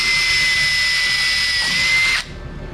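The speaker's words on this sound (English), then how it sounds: "we were doing some tests to see how it handles being drilled" A power drill whines loudly and steadily as it bores into sign-grade material in a fabrication shop, holding a high pitch for about two seconds before cutting off abruptly.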